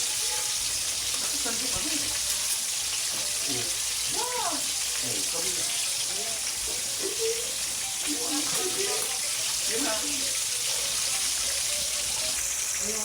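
Fish fries in hot oil in a pan, a steady loud sizzle and hiss with scattered pops and spatters throughout, while voices talk faintly underneath.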